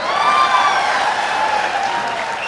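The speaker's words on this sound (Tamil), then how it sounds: "சினிமா நடிகையோட பேரை சொன்னா என்ன சிறப்பா கைத்தட்டல்" Audience applause at a stage talk event, a dense, steady clatter of many hands clapping that holds loud and even for the whole span with no voices over it.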